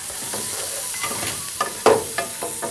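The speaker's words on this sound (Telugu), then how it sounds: "ఇదిగో ఉల్లిపాయ బాగా వేపు." Onions frying with pounded ground masala in a pan, an even sizzle punctuated by a few sharp stirring scrapes and clacks of a spoon against the pan.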